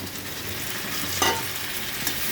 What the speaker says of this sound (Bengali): ভালো করে কষিয়ে নিয়ে রান্নাটা করছি